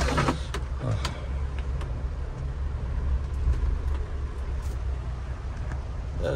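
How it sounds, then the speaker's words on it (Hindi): Car driving slowly along a rainy, unpaved colony street, a loud low engine and tyre rumble inside the cabin with occasional clicks and knocks, continuous throughout. "बस बारिश में गाड़ी चलाते समय ये ध्यान रखिए"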